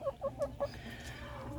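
A rooster makes a quick series of four short clucks close by, followed by a quiet backyard hush with faint ambient noise.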